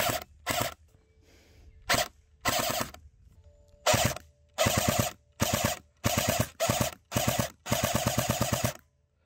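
A Barra 400E electric airsoft BB rifle fires on full auto outdoors in a string of separate mechanical bursts. Short and longer rattling volleys are split by brief pauses, and the sharp reports are close and loud with no speech.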